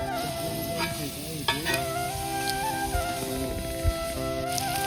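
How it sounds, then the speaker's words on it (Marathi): Jowar bhakri flatbread cooks on an iron griddle, giving a steady close sizzle with occasional scraping and tapping clatter, while a faint tonal hum runs underneath. "तव्यामध्ये आता भाकर टाकले ज्वारीची."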